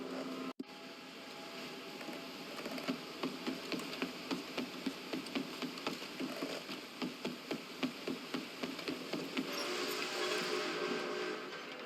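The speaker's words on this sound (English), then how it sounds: "Arthur! A train!" A steam train approaching on the tracks in Red Dead Redemption 2, its rhythmic chuffing beats steady and fairly faint at first, then building into a louder rushing rumble at the end.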